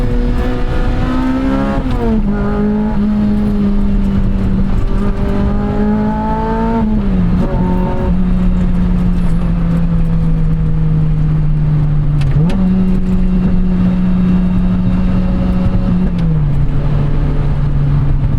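A 2006 Lotus Elise sports car of about 200 horsepower is driven hard, its engine loud and droning from inside the car as it climbs through the revs, drops off and climbs again at each gear change.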